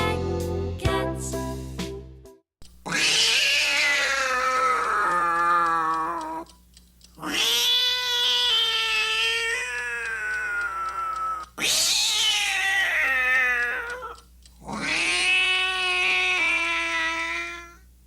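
Cat meowing and caterwauling in four long, loud, wavering howls, each sustained for a few seconds with short gaps between, following a brief run of tonal notes at the start; no talking.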